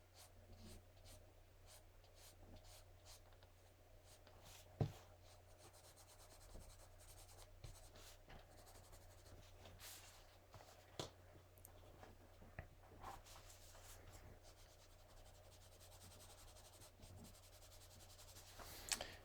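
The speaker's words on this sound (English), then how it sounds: "using the side of this colored pencil, it's working out pretty good" Colored pencil shading on paper with the side of the lead, a quiet continuous rubbing and scratching close up, with a few faint clicks and no talk.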